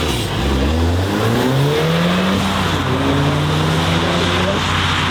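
A restored all-wheel-drive Lamborghini accelerates hard nearby, its engine note climbing through the gears in loud, rising sweeps, with voices faintly in the background.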